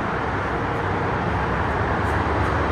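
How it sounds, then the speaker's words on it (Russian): Evening traffic on a Dubai road forms an unbroken roar of cars and tyre noise at a steady loudness, heard from nearby. "Шум, конечно, от машин, такой вот, ну, шум резины."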